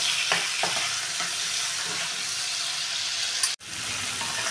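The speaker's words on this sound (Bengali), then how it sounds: "চিংড়ি মাছটা হালকা করে ভেজে নেব।" Prawns fry lightly in a hot pan with a steady, loud sizzle, and a few stirring scrapes sound near the start before a very brief break.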